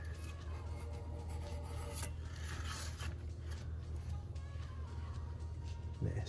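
Deposits being scraped off the crankshaft of an aluminum LS 5.3 engine: a continuous raspy scraping and rubbing, steady and close, with a few sharper strokes and no talk.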